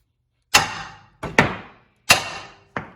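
Five heavy hammer blows land on a metal CV joint part of a Grand Caravan at irregular intervals, each a sharp close clang with a short ringing decay between strikes.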